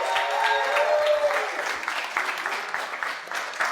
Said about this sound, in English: Give these guys a big applause.